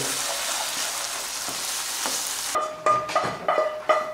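Food being stirred in a sizzling frying pan while cooking Greek dishes with pepper: a steady frying hiss, then a run of clinking, scraping stirs near the end, with no talk.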